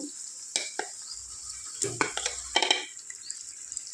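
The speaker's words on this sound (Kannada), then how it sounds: "ಮಸಾಲೆ ತುಂಬ್ಕೊಂಡು ಇಟ್ಕೊಂಡಿದ್ವಲ್ಲ ಹೀರೆಕಾಯಿನ ಅದನ್ನು ಇಲ್ಲಿ ಹಾಕ್ಕೊಂಡ್ಬಿಡ್ತೀನಿ ನಾನು" Stuffed ridge gourd filled with ground masala drops into a pan of hot frying masala, giving a soft sizzle broken by irregular clattering stirs and scrapes, close and fairly quiet.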